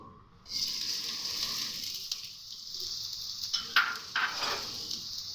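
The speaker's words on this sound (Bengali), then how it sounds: "আমি পেঁয়াজটাকে একটু ভেজে নেব" Chopped onion hits hot oil in a wok and sizzles steadily, a close, continuous hiss with a few brief stirring scrapes partway through.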